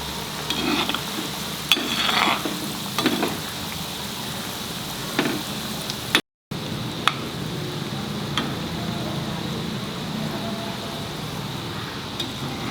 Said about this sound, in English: Very careful while frying this because the oil is very hot